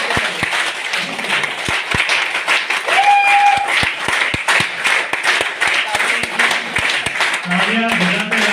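A crowd at a celebration in Bhiwandi claps for people honored on stage, with scattered sharp hand claps under loud talk and music-like tones throughout.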